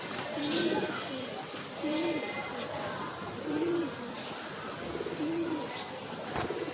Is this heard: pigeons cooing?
yes